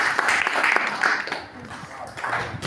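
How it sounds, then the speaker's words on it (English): Audience applause at a structural engineering academy convocation ceremony: a crowd clapping steadily and fairly close, rising and fading, with voices mixed in. "A round of applause for him."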